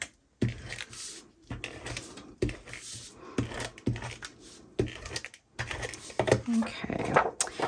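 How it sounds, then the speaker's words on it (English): A tape runner lays adhesive strips to stick patterned paper down for a scrapbook border, making repeated short rasping clicks and rolls, close and crisp, with brief pauses between strokes. "I'm just gonna use some tape runner"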